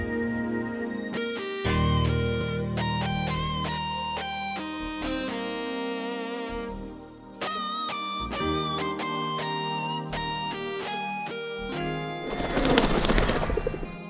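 Indian fantail pigeons at a pigeon show, with a steady run of close, soft cooing and bubbling calls repeating in short bursts, and a brief rush near the end like wings flapping.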